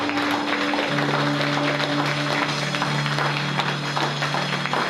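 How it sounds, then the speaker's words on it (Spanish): Congregation applauding the Lord during a Spanish-language church service, a continuous even wash of clapping with steady tones humming underneath, sustained at moderate level throughout. "Denle un aplauso al Señor."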